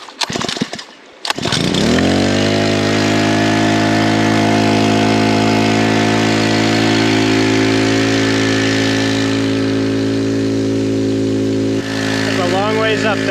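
A water pump for irrigation tanks on a steep off-grid hillside sputters and starts, then settles into a loud, steady, humming engine drone that runs on continuously close by, with a voice speaking briefly near the end.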